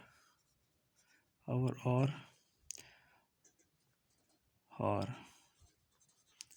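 A pen scratches shorthand onto paper in soft, close strokes between two short bursts of someone speaking, with faint taps and scrapes in the quiet gaps.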